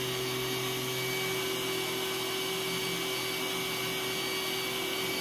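A Roomba s9 robot vacuum runs on thick, high-profile carpet, giving a steady whirring motor hum with a constant tone, close and unbroken throughout, with no talking.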